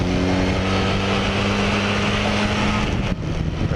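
A 1980 Kawasaki LTD440 motorcycle engine runs steadily with the choke on in cold morning air, a close, even drone with a constant hum.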